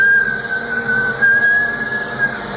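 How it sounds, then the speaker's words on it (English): A bosun whistle blown down a speaking tube at Orfordness Lighthouse gives a steady, piercing high tone with a faint wavering edge, held for a couple of seconds. "they've got a bosun whistle here"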